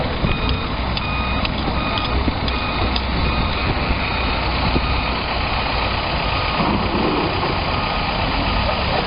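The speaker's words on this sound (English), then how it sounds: "ready to start the pumps" Water pumps running beside a 10 ft tall AquaDam during a fuel cleanup at Norway House, Manitoba, a loud unbroken engine drone with a low rumble and a faint repeating high whine throughout.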